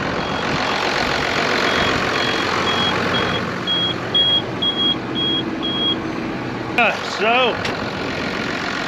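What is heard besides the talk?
tractor engine running while planting with a planter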